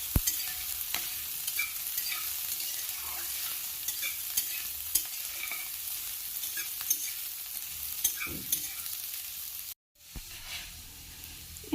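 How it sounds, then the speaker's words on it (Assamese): Onions and green chillies fry in hot oil in a wok and are stirred until reddish. A constant near sizzle runs with scraping stir clicks, then cuts out briefly before the frying returns. "পিঁয়াজখিনি ৰঙচুৱা হ'লে ভাজি ল'ব।"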